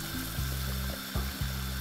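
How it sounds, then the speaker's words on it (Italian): Water simmers in a pot holding chicken, a continuous bubbling hiss with a few soft clunks, close by and with no voices. "l'acqua è arrivata a bollore dove abbiamo messo il polletto"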